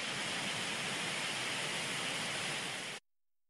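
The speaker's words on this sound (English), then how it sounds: "One I listen to is actually called brown noise." Steady brown noise from a white noise phone app, a dense even hiss with a deep rumbling body that plays unchanged for three seconds and then cuts off abruptly to silence.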